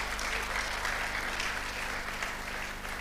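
Audience applause at a teachers' certificate award ceremony: steady, dense clapping from a crowd, moderately loud and continuous throughout, with no talking over it.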